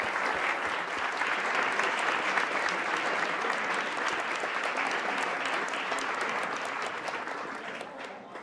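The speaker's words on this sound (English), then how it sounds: "Let's have one final round of applause for all of our participants this year." Sustained applause from an audience at the Ohio High School Mock Trial state championship, a dense steady clapping that runs the full length and tapers slightly toward the end.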